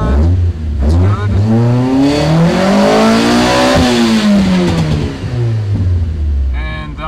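A car with a 4A-GE engine revs hard, the pitch climbing in a long sweep, peaking, then falling back to idle, loud and close, with someone speaking over it.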